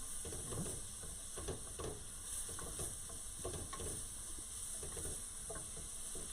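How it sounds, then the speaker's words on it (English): Onion sautéing in a spoonful of extra virgin olive oil for village-style pasta with clams, a steady close sizzle with soft crackles and stirring, no talk. "right now you're going to saute the onion"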